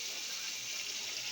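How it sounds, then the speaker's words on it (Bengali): Kewra water poured into a cooking pot, a steady soft liquid trickle that runs without a break for the whole moment, fairly quiet with nobody talking. "কেওড়া জল দিলাম।"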